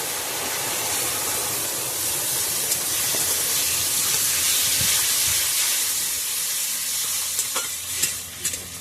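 Cumin seeds and garlic sizzle in a small amount of hot oil, a loud, steady frying hiss that runs throughout, with a few light stirring scrapes near the end and no talking.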